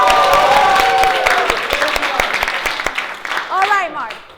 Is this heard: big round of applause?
yes